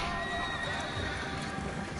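A horse in a PS4 video game neighs and its hooves clip-clop, loud and close throughout the short stretch, with faint game background under it.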